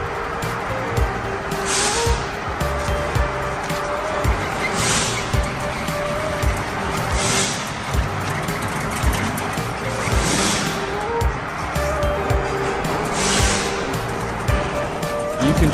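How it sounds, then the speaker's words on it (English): A gasoline-powered, tracked, remote-controlled crawler lawn mower with a 1000 mm cutting width drones steadily nearby, with rough, noisy cutting texture and whooshing surges that recur every couple of seconds. "At present, we produce and sell gasoline-powered track crawler lawnmowers."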